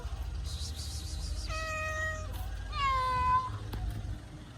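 A Siamese cat lets out two drawn-out, nasal meows close by, the second louder and wavering, over a low engine-like rumble, with faint human voices nearby.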